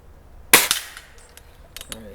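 A Hatsan 95 .25 caliber air rifle fires once at a target: one sharp, close crack that decays quickly, followed by a few faint clicks and rattles.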